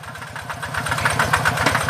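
A rice transplanter's engine chugs steadily close by while being driven through a paddy field in Sakon Nakhon, Thailand, a rhythmic, throbbing mid-pitched putter that grows slightly louder.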